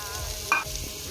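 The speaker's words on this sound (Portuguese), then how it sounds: "para dar uma fritada aqui na calabresa" Brazilian calabresa sausage frying in a pan with onion and garlic, a steady sizzle with a brief scrape of stirring in the middle, close and moderately loud.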